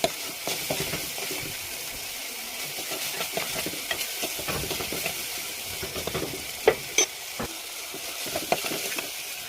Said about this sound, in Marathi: मसाला आणि टोमॅटो तेलामध्ये व्यवस्थित शिजू द्यायचा आहे।